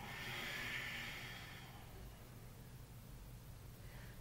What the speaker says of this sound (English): Seal your lips, inhale through your nose. Exhale through your nose.